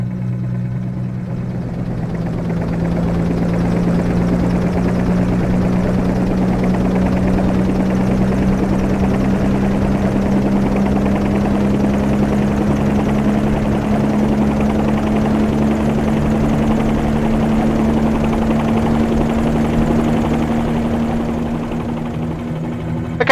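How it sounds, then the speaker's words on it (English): Bell 47-G2 helicopter in Microsoft Flight Simulator spooling its rotor up toward 300 RPM: a steady, loud engine and rotor drone with a slowly rising pitch, continuous throughout with no talk. "just waiting for the rotor RPM to spool up there, come up to 300 RPM"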